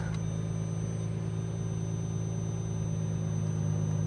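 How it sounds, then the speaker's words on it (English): A Lamborghini Murcielago LP640 Roadster gives a steady high warning tone that cuts out briefly several times, heard over a low, constant engine idle hum inside the car. "Yep, more beeping."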